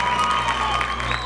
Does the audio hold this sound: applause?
yes